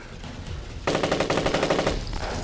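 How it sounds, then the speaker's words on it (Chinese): Enemy automatic gunfire during a night attack on a wartime position erupts abruptly into a loud, rapid burst of machine-gun shots, rattling steadily for about a second before cutting off. "你听鬼子的枪声"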